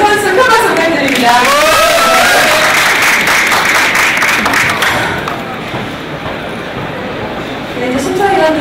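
Audience applauding and cheering a competitor at a barista competition, a broad sustained wash of clapping with crowd noise and a voice over it, easing slightly partway through before swelling again.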